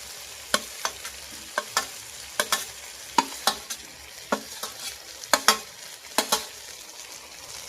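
Pre-fried potatoes stirred into sizzling chicken ghugni in a pan, a steady frying hiss broken by sharp, repeated scrapes and clacks of the spoon.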